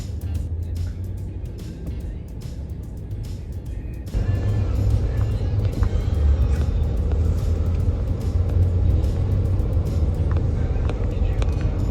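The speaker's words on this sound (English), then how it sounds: "Traffic is crazy once you get around here." Busy city road traffic heard from close by, a continuous rumble of passing cars and engines that grows louder partway through, with people talking over it.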